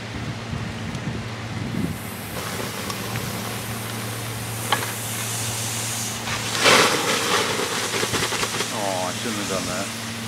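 Water hitting molten thermite on a porcelain urinal gives a loud hissing sizzle with steam, a steady broadband hiss that swells sharply partway through, with a low hum underneath and people talking nearby.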